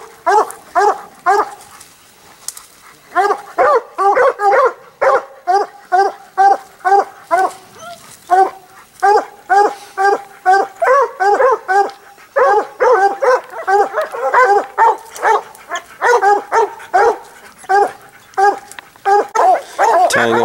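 Hunting dogs bark and bay steadily in rapid repeated bursts during a mountain lion hunt, a chorus of several animals at moderate distance, almost without pause.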